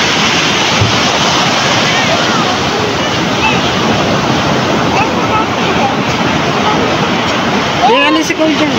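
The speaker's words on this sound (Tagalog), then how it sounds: "Ang laki po ng alon." Loud, continuous roar of crashing surf and wind buffeting the microphone, with a brief high squeal near the end.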